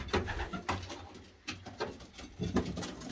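Racing pigeons cooing inside a loft, a steady layered chorus of soft coos from many birds at moderate distance, with faint rustling and scattered taps through the background.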